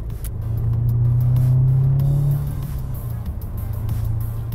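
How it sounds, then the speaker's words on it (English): Car engine accelerating in the video game Road 96, a loud steady motor drone that rises into a strong rev, then settles back to a lower hum under continuous road noise. "Shut up and step on the gas!"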